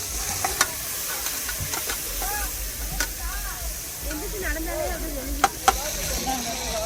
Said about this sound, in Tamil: எண்ணெய் ஊற்றி பத்தல் கருவேப்பில ரொம்ப அவசர அவசரமாக தாளிக்கிறேன்